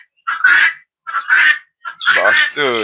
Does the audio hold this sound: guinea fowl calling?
yes